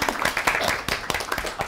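A festival audience applauds in a brief burst of dense, continuous clapping at close to moderate distance, with a few sharper claps standing out and faint voices mixed in.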